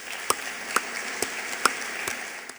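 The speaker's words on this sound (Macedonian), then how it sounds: "ги замолувам сите кои што се седнати тука со овие убави кравати во први ред да дадат еден аплауз за" Sparse, scattered handclaps come from a seated audience at the opening of the Magna Mirrors factory in Struga, a few distinct claps at uneven intervals over a faint background murmur rather than full applause.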